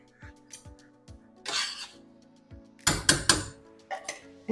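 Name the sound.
spoon stirring coconut milk in a pot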